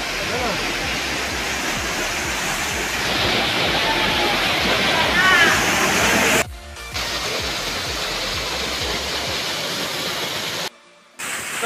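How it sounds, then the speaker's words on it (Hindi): A powerful waterfall at Ajodhya Pahar in Purulia roars in a steady, close, broadband rush of falling water, with two brief dropouts and faint voices mixed in. "गाइस देख सकते पूरा एकदम खतरनाक वाला झरना।"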